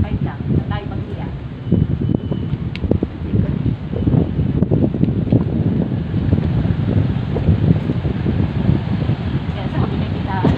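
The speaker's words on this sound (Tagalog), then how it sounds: "Malakas ang hangin, ano?" Heavy wind roaring against the microphone for the whole stretch, with people talking underneath the gusts.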